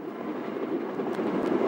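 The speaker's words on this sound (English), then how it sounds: "The landscape becomes more arid as the train approaches the coastal plain." A train runs through arid Eritrean landscape toward the coastal plain near the Danakil Depression, giving a steady mid-pitched rumble and rolling noise throughout, with no voices.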